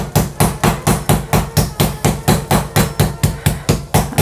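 Kitchen hammer pounding pieces of meat for schnitzel, about seventeen loud, evenly spaced thuds in a steady rapid rhythm, close up and alone.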